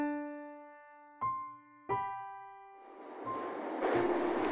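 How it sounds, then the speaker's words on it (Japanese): A train passes near a house: a few sustained tonal sounds come first, then a broad rushing rumble swells and grows steadily louder toward the end. "電車の音。"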